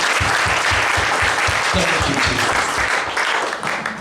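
A church congregation claps during a worship service, starting with a few evenly spaced rhythmic claps before swelling into dense, continuous applause that fades a little toward the end.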